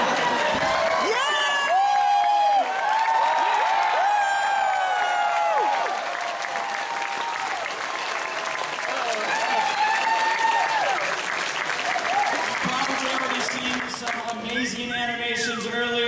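A BronyCon convention crowd applauds steadily for about sixteen seconds, with scattered cheers and whoops rising over the clapping.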